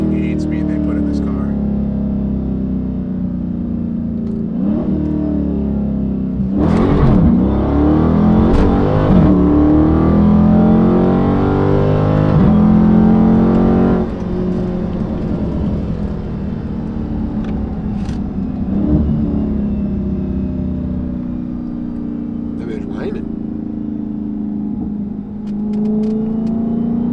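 A Dodge Charger Daytona 392 with an 8-speed transmission whines steadily while driving, a continuous engine drone with rising pitch sweeps and louder surges, heard from inside the cabin as a voice talks over it.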